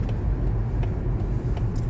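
New-model Mazda CX-5 on the road in Katowice, heard from inside as a steady low engine and tyre rumble with faint road hiss, constant and unbroken.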